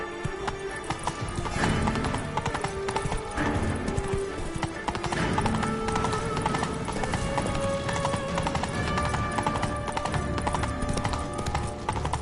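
Roach, the horse in The Witcher 3 video game, gallops in steady, rapid clip-clop hoofbeats that carry on nearly throughout, with an occasional whinny over a dense backdrop of game music and ambience.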